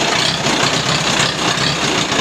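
Old tractor with carburetor trouble, converted to 12-volt starting, fires up and runs with a steady, loud, rough engine drone, close by and without talk.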